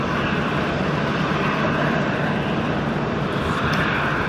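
An airliner takes off at Sydney Airport, a continuous loud jet-engine roar that holds steady throughout, heard from a plane-spotting spot near the runway without talk.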